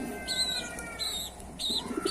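Ornamental pigeons kept in a loft coo in a few short, soft phrases close by, with faint chirps around them and no talking.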